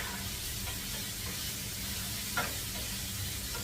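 Ground beef frying in a very hot pan on medium-high heat, a constant dense sizzle with a few soft stirring scrapes and a small clink, no talking.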